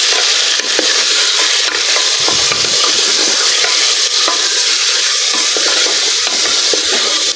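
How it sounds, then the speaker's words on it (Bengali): Mutton is stirred and fried in hot oil in a pan, giving a loud, steady sizzle with scraping stir strokes running throughout, close up, with no talking. "মাংসটা তেলের মধ্যে একটু কষিয়ে নিচ্ছি"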